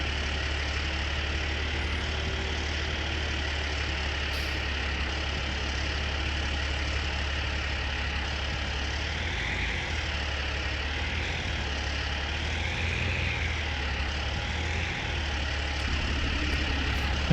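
Tractor engine idling and running in Farming Simulator 19 during hay work, a steady low rumble with faint knocking, moderately quiet and continuous with no talk.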